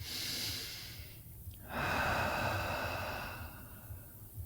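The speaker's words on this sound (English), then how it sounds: "Open mouth, let it go. 2 more just like that. Make the exhale audible." A deliberate open-mouth exhale during a yoga breathing exercise, a soft airy rush heard twice, close and quiet, with a gentle breathy swell in between.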